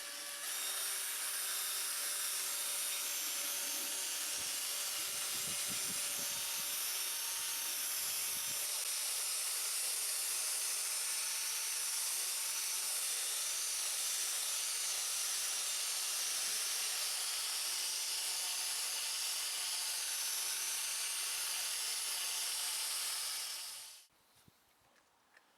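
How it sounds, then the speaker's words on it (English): A drill with a polishing mop buffing a plastic headlamp lens with Autosol gives a steady, loud whirring hiss, running almost without a break for over twenty seconds, then cuts off abruptly near the end. "dampen the mop and set to work. Keep the drill moving"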